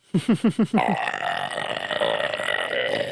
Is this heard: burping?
yes